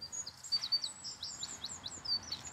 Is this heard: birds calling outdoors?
yes